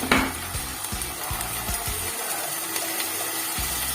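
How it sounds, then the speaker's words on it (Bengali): Potatoes fry in hot oil in a wok, a steady close sizzle with a series of rhythmic stirring scrapes and clacks, no voices. "তো কড়াইতে তেল গরম বসিয়ে দিয়েছি। এবার আমি আলুগুলিকে ভেজে নেব।"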